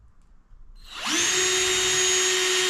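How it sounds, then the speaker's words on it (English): A power drill spins up from silence and drills a hole into a brand new Toyota Supra, a loud, steady high-pitched whine sustained to the end at close range. "Tell me you ain't never seen nobody drill a hole better than that."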